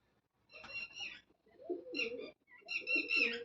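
A female pigeon coos up close in three soft, throaty bursts separated by short pauses.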